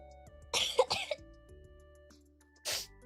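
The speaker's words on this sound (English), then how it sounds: "I have the cough part of the sore throat" A person with a sore throat coughs: a pair of rough, close bursts followed after a pause by one more, over soft sustained electronic game music.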